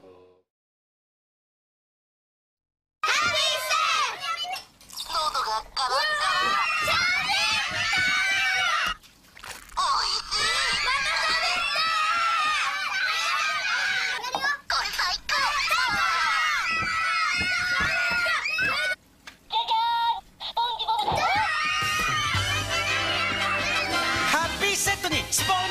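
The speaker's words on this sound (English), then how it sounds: "the children, when they would have a sip, they would scream from the top of their lungs" Children scream shrilly and almost nonstop in a Japanese Happy Meal SpongeBob commercial, the loud piercing cries breaking off only for brief gaps after a few seconds of silence at the start.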